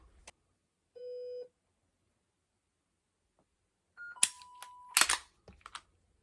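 An electronic shot timer sounds a single clear tone for a trigger press drill, followed by a cluster of sharp clicks and snaps, with silence between.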